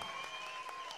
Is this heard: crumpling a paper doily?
no